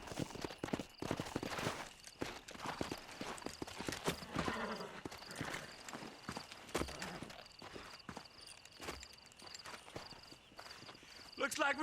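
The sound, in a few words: horses walking, hooves clip-clopping, Red Dead Redemption video game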